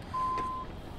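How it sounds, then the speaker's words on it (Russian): A Mercedes-Benz Actros in Euro Truck Simulator 2 gives a single clear reversing beep, a pure electronic tone lasting about half a second over a low engine hum. "Как я не люблю пикание на задний ход, надо будет отключить нам."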